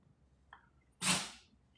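A single short, sharp sneeze cuts through a quiet room, preceded by a faint breathy intake.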